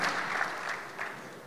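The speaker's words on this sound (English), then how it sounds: "I thought I'll get an applause from all of us" A brief, soft wash of applause from a conference audience, steady clapping heard from a distance for under two seconds.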